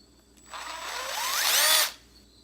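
A cordless power drill or driver spins up to remove a bolt in one continuous whir of about a second and a half, rising in pitch before stopping abruptly, loud and close.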